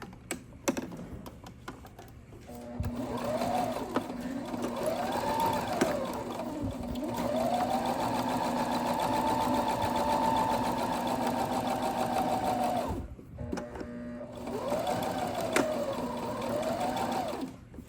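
A sewing machine stitches mink fur in bursts, its motor whirring steadily with a rapid stitching rattle, pausing briefly between runs; close and fairly quiet.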